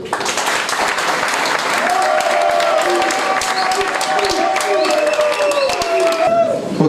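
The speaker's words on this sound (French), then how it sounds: "M. Jean-Marie Mboyo, que je vous prie d'applaudir." Audience applause at a political gathering installing new committees, dense clapping filling the space steadily and loudly, with voices and a few cheers mixed in throughout.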